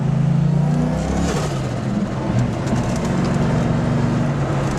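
Turbocharged car pulling away in first gear on light boost, a steady engine drone rising slightly in pitch with a faint whistle above, continuous and close throughout.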